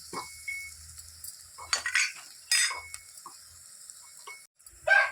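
Ginger garlic paste frying in a pan for an Andhra-style country chicken curry, heard as short bursts of sizzle and spoon scrapes with clinks, separated by near-silent gaps.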